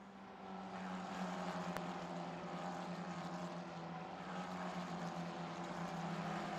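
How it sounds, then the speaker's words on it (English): Formula 4 race cars at Mugello, a steady continuous engine drone of the field passing at distance, uniform and unbroken throughout. "Isha ahead of Thomas as the field race down through Arabiata 1, Arabiata 2, and then climb uphill."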